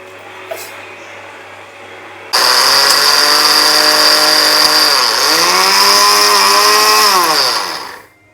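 An electric grinder coarsely grinds spices for moringa pickle, starting abruptly with a loud, close, high whine that dips and recovers in pitch as it loads, then winds down after about six seconds.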